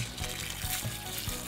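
Rainwater, about two inches collected in a rain gauge, is poured out in a steady splashing stream, loud and close, with a few rhythmic surges.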